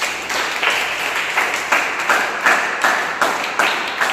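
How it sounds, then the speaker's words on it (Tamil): A church congregation claps hands together during a Sunday service, producing steady rhythmic group claps at a brisk even pace, fairly close and continuous. "கையை தட்டு."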